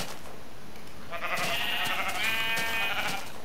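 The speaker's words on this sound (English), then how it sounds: "I love these sheep." Sheep in the video game Minecraft bleating, a couple of wavering nasal bleats rising over a quiet game background hiss.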